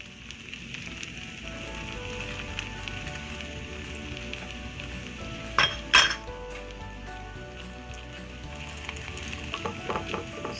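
Chicken strips frying in a pan, a steady crackling sizzle throughout with a couple of louder pops or clinks near the middle.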